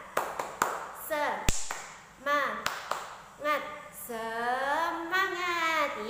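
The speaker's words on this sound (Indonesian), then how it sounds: "kita tepuk semangat dulu ya. Tepuk semangat." A classroom of young children does a rhythmic clapping chant led by a teacher: sharp, patterned claps interleaved with sung and chanted voices, close and lively.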